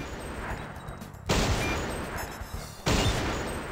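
Two heavy gunshot blasts, spaced about a second and a half apart, from the arcade sniper shooter Silent Scope, loud and booming with a short decay over a steady game background.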